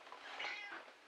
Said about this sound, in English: we all heard the same thing, and we all confirmed it was a cat